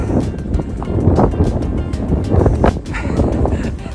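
Strong wind buffets the microphone in a continuous loud rumble with gusty surges, dense low roar throughout and no voices.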